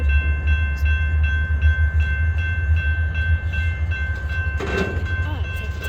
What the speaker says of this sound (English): He could be splitting up the train a bit.